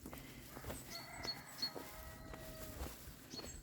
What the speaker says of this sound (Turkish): Ay horozlar ötüyor.